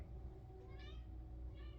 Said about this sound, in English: I don't know if you guys were able to hear her meows